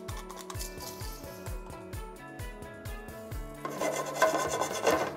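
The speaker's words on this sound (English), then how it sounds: "whisk it around or shake the pan" A whisk scrapes in quick, steady strokes through a Cabernet wine and butter sauce (beurre rouge) in a pan, a rhythmic rasping that grows louder and busier toward the end.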